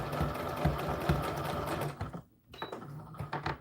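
A sewing machine runs steadily while back-stitching to tie off the seam on an American Girl doll dress bodice. The stitching is close and continuous, pauses briefly, then resumes in short bursts.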